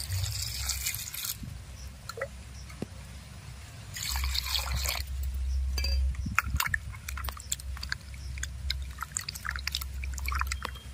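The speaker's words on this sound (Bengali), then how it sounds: "পরিষ্কার জলে লিচু ধুয়ে নেব।" Lychees being washed in clean water give soft sloshing, trickling and dripping sounds close up, in intermittent bursts of splashing and handling with no speech.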